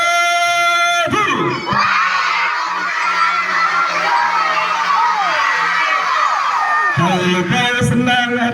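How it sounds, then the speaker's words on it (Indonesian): A large audience shouts the Islamic greeting back in unison at a storytelling event, loud and sustained for several seconds, between stretches of a single voice speaking. "kita jawab salam yang semangat ya"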